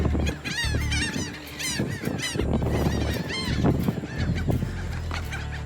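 Many agitated geese near their nests give loud, overlapping honks, close and continuous, with harsh repeated calls piling over one another.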